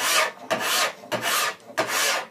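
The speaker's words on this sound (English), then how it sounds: "use the full length of the file" Metal being filed with a hand file held in a file jig: four long, even rasping strokes in a steady rhythm, close and clear, with no talk.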